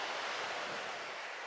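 Sea waves wash steadily onto the shore near a seaside cabin on a calm, sunny morning, a continuous broadband surf hiss with gentle swells, fairly close and alone with no voices.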